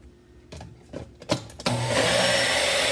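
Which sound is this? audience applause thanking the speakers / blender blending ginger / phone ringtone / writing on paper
blender blending ginger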